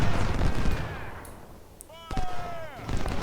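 Musket volleys and artillery fire in the Ultimate General: Civil War strategy game at the Battle of Chickamauga, sharp loud blasts crackling amid battlefield noise, with a couple of whistling shell sounds rising and falling near the end.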